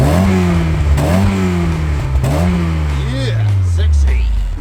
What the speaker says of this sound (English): Give her a couple of little revs, Nessie Noms.